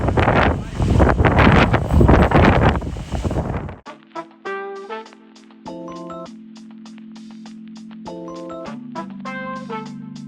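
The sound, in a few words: wind blowing at night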